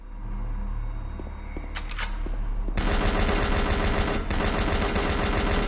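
Rapid, dense gunfire in DOOM 3 VR, a few scattered shots and then loud sustained automatic bursts with a brief break, heavy and close, with no talking.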